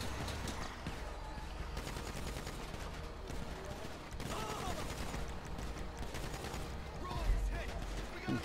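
Video game gunfire in quick repeated volleys, steady rattling shots running throughout at moderate loudness amid busy game sound.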